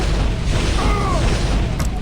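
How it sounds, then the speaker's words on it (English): Scorpion missile launcher in a video game loosing a volley of three missiles, a dense roaring boom with a faint whistling sweep through it, loud and continuous over the whole moment. "Fires a volley of 3 missiles"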